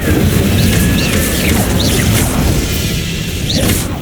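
Incendio fire spell cast in the Hogwarts Legacy video game: a loud, steady booming roar with whooshing bursts and crackling flares over dense game ambience, sustained throughout without a break.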